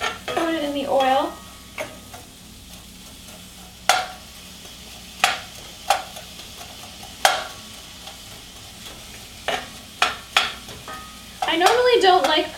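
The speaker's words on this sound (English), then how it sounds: "stir that onion around. Get it all coated in the oil." Purple onion stirred through oil in a pan for a sweet and spicy red cabbage dish: a quiet sizzle broken by sharp, irregular utensil scrapes and knocks against the pan, with a voice talking at the start and end.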